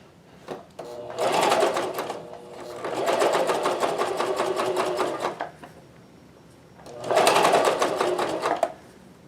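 Janome CoverPro 1000CPX coverstitch machine sewing single-layer cotton t-shirt fabric, three rapid rattling bursts of stitching with brief pauses between, close and loud.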